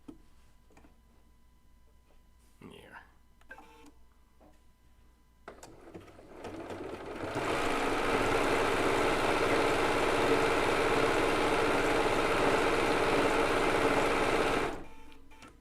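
A Bernina B990 sewing machine stitches decorative stitches on quilt binding. After quiet handling noises, the motor starts with a steady, fast mechanical whirr and rattle that runs about seven seconds before stopping.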